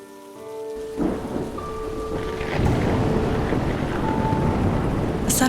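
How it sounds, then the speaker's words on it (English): Heavy rain pouring down in a sudden storm, with a deep thunder rumble rolling underneath, steady and loud throughout. "rain suddenly began to pour"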